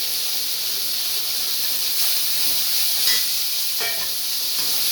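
Large onions fry in hot oil for tomato chutney, a steady bright hiss that carries on evenly throughout with faint scraping near the end.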